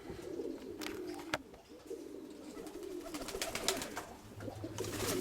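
Pigeons cooing at a dovecote, a soft low burbling chorus running throughout with scattered faint chirps and shuffling sounds, moderately close.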